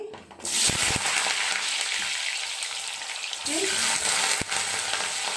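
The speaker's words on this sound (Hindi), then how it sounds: "ये हमने तेल गरम किया है, अभी हम इसमें आलू डालेंगे।" Potatoes drop into hot oil in a kadhai and burst into a loud, bright sizzle that holds steady, with a couple of stirring knocks and a short dip before the frying hiss swells again.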